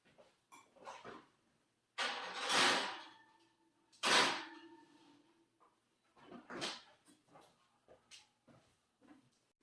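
A pet dog being asked to give her paw makes close whimpers, yips and short huffs in scattered bursts separated by brief quiet gaps, with no talking.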